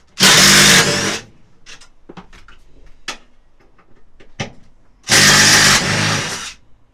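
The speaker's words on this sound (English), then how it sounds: "Then we've just got this hole here to drill out." A power drill boring out a hole in a van seat mount, two loud bursts about a second long each, separated by quieter clicks and handling knocks, with no talk.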